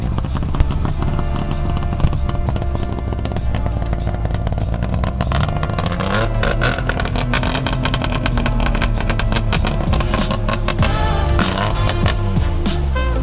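An engine runs steadily at Swedish Day 2025, loud and close, with a continuous mechanical clatter and rising revs across the span, alone without talk.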